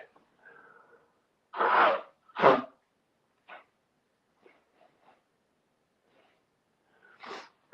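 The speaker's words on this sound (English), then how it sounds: "I'm gonna lean off screen for a moment and blow my nose." Two loud, forceful nose blows close to the mic, followed by a few quieter sniffs and a final blow.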